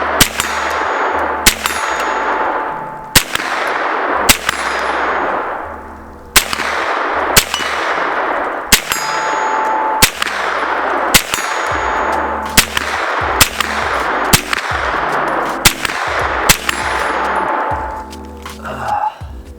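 Rifle shots ring off a steel target at 50 yards, a steady string of about fifteen sharp clangs spaced roughly a second or so apart, each with a bright metallic ring that decays quickly over steady background noise.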